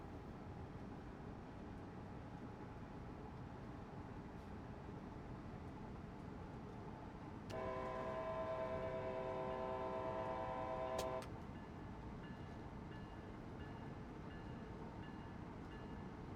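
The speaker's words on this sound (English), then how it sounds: "The alarm is the alerter, so the deadman switch." An alerter alarm sounds in the cab of an ALP46 electric locomotive in Train Sim World, giving a steady multi-tone beeping for about four seconds over constant cab and running noise.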